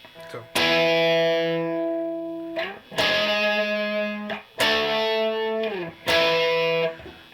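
Four sustained distorted electric guitar chords, each struck hard and left ringing for over a second before the next, loud and close.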